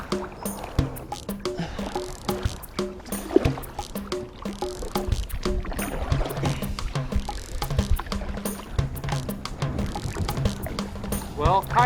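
Kayak paddles dip and splash close by, with gurgling water against the hull in an irregular rhythm, while people talk nearby.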